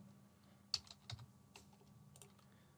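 Someone types on a computer keyboard, a few soft, scattered keystrokes with brief pauses between them, quiet and close, with a low steady hum underneath.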